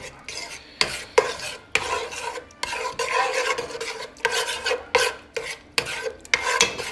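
A spoon stirs tomato paste frying in a pot for jollof rice, making repeated scraping, rasping strokes in an uneven rhythm over a soft sizzle, close and fairly loud, with no talking.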